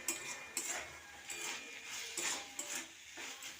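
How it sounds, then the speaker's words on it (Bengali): A metal spatula scrapes and clinks against a pan while khesari greens are stirred, a steady run of close, bright clattering strokes with no voices. "শাকটাকে দিয়ে ভালো করে নাড়িয়ে নেব।"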